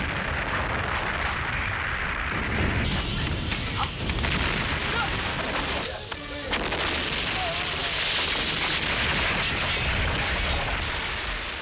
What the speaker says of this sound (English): He stages the biggest explosion possible, then runs away from it very fast when the cameras roll.